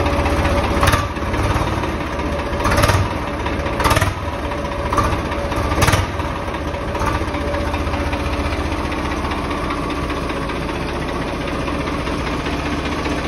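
A cold Swaraj 855 tractor engine idles early in the morning with a steady mid-low rumble and knocking, several louder periodic bursts near the start before it settles into an even drone.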